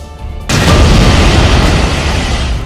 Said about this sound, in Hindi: पहले जोरदार धमाके हुए, फिर गैस का कुआं आग का गोला बन गया।